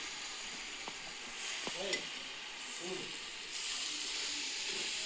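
Biryani masala with mint and coriander sizzles faintly in a pan, a soft continuous frying hiss with occasional stirring clinks and a few brief murmured voices in the background.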